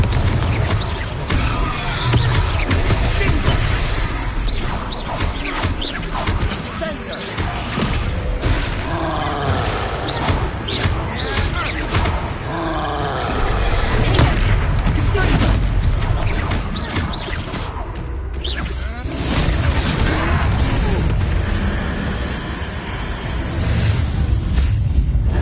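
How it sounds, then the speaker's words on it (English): Confringo blasting spells fired in Hogwarts Legacy, a dense, continuous barrage of loud booming explosions and crashing roars, with game music and combat noise layered throughout. "Confringo."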